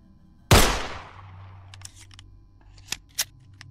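A single loud gunshot cracks out in a body cam horror video game, its boom decaying over a second, followed by a low hum and a few faint clicks and small knocks.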